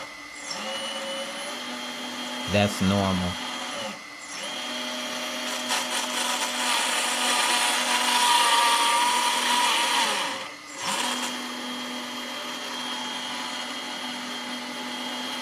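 A loud, whining gear drive in a Lesu SK500 LC RC excavator's reassembled track hub runs continuously with a grinding mechanical buzz, briefly clattering and pausing twice; a voice speaks a few words near the start.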